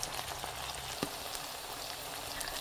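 Ginger and garlic fry in a pan as the base for a shrimp curry, making a soft, even sizzle that runs steadily throughout with one faint clink, quiet and close with no speech.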